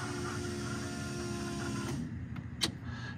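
A car's fuel pump primes after the power is switched on in a turbo LS-swapped Mustang, giving a steady faint electric whir that stops at about two seconds, followed by a few light clicks.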